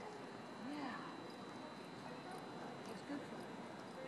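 A horse loping: soft, faint rhythmic hoofbeats under steady outdoor background noise, with a few brief clip-clop thuds standing out.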